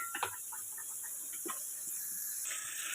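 Onions, tomatoes and green chillies sauté in a pan, a steady soft sizzling hiss with a few faint clinks of stirring, close by and without talk.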